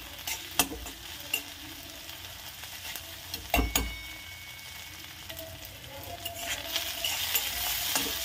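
Raw tomato chutney ingredients roast in hot oil in a pan, giving a steady close sizzle with occasional sharp scrapes and clinks of a stirring spoon, and no talk.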